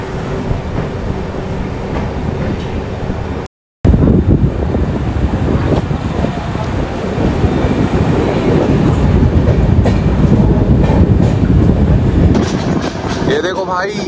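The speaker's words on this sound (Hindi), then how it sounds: "अपनी जो ट्रेन है ना वो दुर्ग रेलवे स्टेशन से डिपार्ट हुई है" Mumbai Howrah Mail train pulling out of Durg railway station in India, a loud continuous rumble of rolling railcars with rhythmic clickety-clack of wheels on rail joints close by, after a brief cut near the start.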